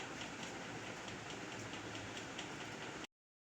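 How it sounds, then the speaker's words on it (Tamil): Nearby metro train passing at a park in Thiruvananthapuram, a steady broad rushing rumble with faint rhythmic clatter, moderately distant, ending abruptly. "மெட்ரோ எல்லாம் பக்கத்தில் இருக்கிறனால சவுண்டெல்லாம் வந்து கேட்குது"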